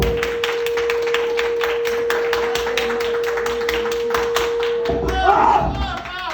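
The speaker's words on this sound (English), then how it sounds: "Clap with me real quick" A comedy club audience claps in unison, producing a fast, steady run of close, even beats over a constant electrical hum, which then give way to a brief burst of crowd noise near the end.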